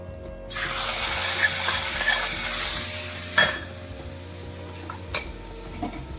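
Rava pongal with moong dal, green chilli and ginger being stirred in a pot, soft continuous scraping and bubbling with a couple of sharp spoon knocks against the vessel midway and near the end.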